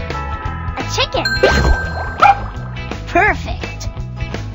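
Cartoon puppy barks in a children's bubble-popping video game, several short yips over bouncy music with chiming bubble pops and jingles.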